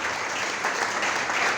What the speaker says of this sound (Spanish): Aplauda al Señor con todas sus fuerzas.